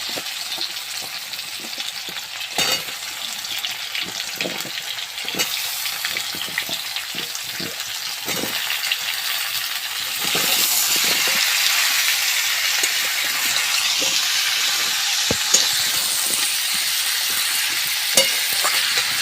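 Potato pieces fry in a pan with repeated spatula knocks and scrapes; the sizzle grows noticeably louder and denser partway through.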